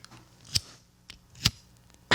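A voice imitates a basketball swishing cleanly through the net, giving three short breathy bursts spaced about a second apart, close and fairly soft, with no other talk.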